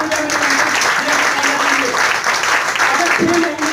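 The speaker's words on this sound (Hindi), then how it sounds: "ये जोरदार ताली हो जाए" An audience bursts into loud, sustained applause at a motivational business seminar, dense clapping filling the room for several seconds.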